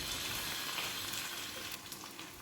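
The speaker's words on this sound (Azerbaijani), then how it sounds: "Soğan biraz qovrulduqdan sonra üzərinə doğramış olduğum pomidoru əlavə edirəm." Chopped tomato lands on onions that are frying in a pan, producing a close, steady, fairly quiet sizzling hiss with faint crackles throughout.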